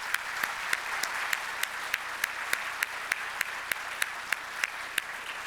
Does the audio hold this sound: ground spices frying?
no